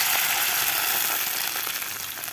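Onions fry in a pan on a stove, giving a steady, close hiss of sizzling oil with faint crackles and no talk over it.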